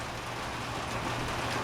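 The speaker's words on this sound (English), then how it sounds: "We got, I don't know, 34 degrees, kind of sleeting, raining." Sleet and rain fall steadily on a cold, nasty southern Indiana evening near freezing, making a dense, even hiss with no voices.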